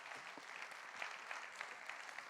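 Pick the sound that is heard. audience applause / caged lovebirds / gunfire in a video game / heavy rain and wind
audience applause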